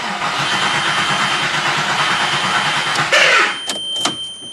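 A VR6 engine cranks over steadily during a compression test, its starter chugging in an even rapid rhythm for about three seconds before cutting off, leaving brief clicks and faint rattles.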